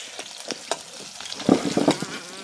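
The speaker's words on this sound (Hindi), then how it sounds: "और जा चम्मच चलाओ, चलो।" A spoon stirs and scrapes through vegetables frying in a pan. Irregular clinks and scrapes sound over a soft sizzle, with a busier burst of stirring near the middle. No one speaks.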